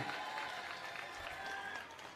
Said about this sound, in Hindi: एक बार जोरदार ताली बजा दो सारे जने।